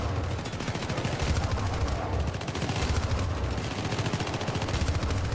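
Dense gunfire fills a firefight in the video game Syndicate. Rapid automatic bursts overlap into an unbroken, loud rattle with no pauses or talk.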